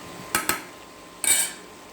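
A metal spoon clinks and scrapes against a pan while cabbage and carrot curry is stirred, with two quick knocks followed by a longer scraping clatter, close and clear with no talking.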